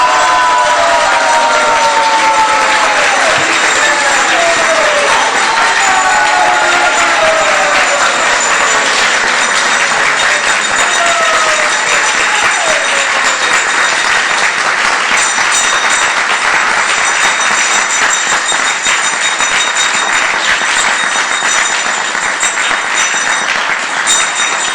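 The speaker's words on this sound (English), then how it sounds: "Let's give a rousing applause for Maharaj and his coming here with all his entourage as well," Sustained, loud applause from the audience at a devotional class with a visiting swami, dense steady clapping filling the whole span, with faint chanting or singing voices threaded underneath.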